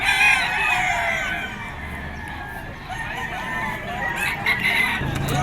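A hiraw rooster, a green-legged gamefowl, crows at a bird market in Bocaue, Bulacan. It gives a loud, drawn-out cock-a-doodle-doo over a busy background of other birds and crowd noise.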